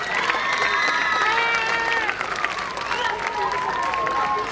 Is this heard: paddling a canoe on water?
no